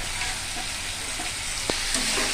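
Spiced chicken pieces fry loudly in a pan for a chicken kosha, a steady dense sizzle with a brief clack of a utensil near the end.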